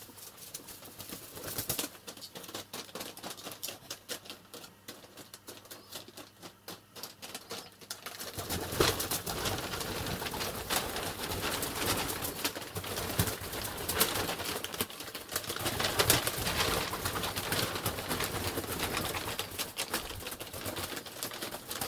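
Feral rock pigeons coo indoors in a room, soft repeated cooing with occasional wing flaps, quiet at first and growing into a steadier, denser stretch of bird sounds with no talking.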